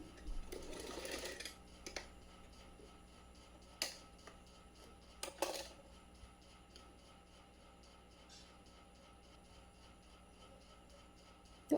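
A sewing machine stitches a strip of lace onto a fabric strip, giving faint, rapid mechanical ticking broken by a few brief clicks in an otherwise quiet room.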